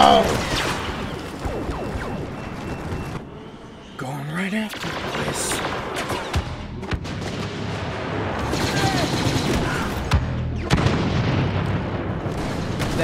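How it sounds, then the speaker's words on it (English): A large explosion in the Star Wars Battlefront video game booms loudly amid continuous rattling gunfire and blasts, with a brief lull before the barrage surges back. "that is a mega explosion going on right there"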